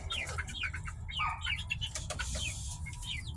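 Backyard chickens near their coop make a busy mix of high, quick chirps and soft calls, with a low rumble underneath. The sound is continuous, fairly faint and fills the whole moment with no talking.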